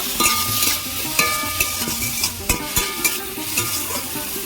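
Tomatoes and salt go into a frying pan of mustard-seasoned food, sizzling steadily while a utensil stirs and scrapes with several sharp clanks against the pan, close and clear with no talking.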